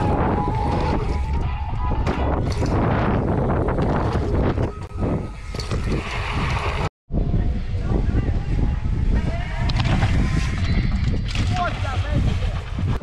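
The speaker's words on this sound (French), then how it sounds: "aujourd'hui il y a encore pas mal de vent" Gusty wind at a city bike park in Germany buffets the microphone in loud, rumbling bursts, with people talking underneath and a brief dropout midway.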